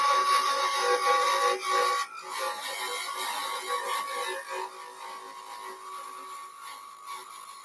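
A hand scraper works across a wooden surface in a woodworking shop, giving a papery, scratchy rasp that starts fairly strong and fades to a fainter, steady scrape with no one talking.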